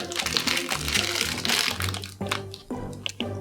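Plastic wrapping of an L.O.L. Surprise doll package being torn and crinkled open, with dense rustling and a few sharp crackles in bursts, close and fairly loud, while someone talks over it.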